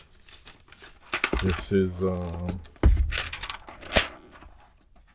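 Wax paper crinkles during the unboxing of a 16-inch MacBook Pro M4 Max, producing short, close rustling bursts and crisp crackles around a brief spoken phrase.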